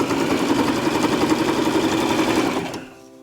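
A sewing machine stitching trim down onto a karate or taekwondo uniform runs in a fast, continuous whirring rattle, close and loud, then winds down and stops near the end, no talking.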